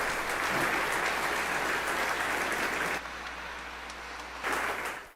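Loud, sustained applause from a church congregation at a parish Mass, dense clapping filling the space, briefly dipping in intensity before swelling again near the end.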